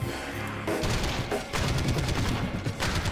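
Rapid gunfire from House of the Dead Overkill fills a busy, loud stretch of repeated shots and heavy thumps, with bursts coming in quick succession and no clear pauses.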